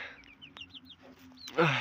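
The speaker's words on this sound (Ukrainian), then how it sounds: "Це порода китайські пухові або китайські шолкові. Ну, такі от курчата. Маленькі." Small silkie chicks cheep in quick, high-pitched peeps, close by and fairly soft, over a low background hum.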